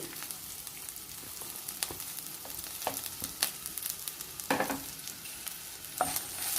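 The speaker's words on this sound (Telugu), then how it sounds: "పచ్చిమిరపకాయలు 1/2 నిమిషంలో మంచిగా వేగిపోతాయి. తర్వాత మనం ఇందులో కరివేపాకుని వేసేసుకోవాలి." Green chilies and curry leaves frying in a pan for a curry leaf chutney, giving a steady close sizzle with occasional stirring scrapes and pops, no voices.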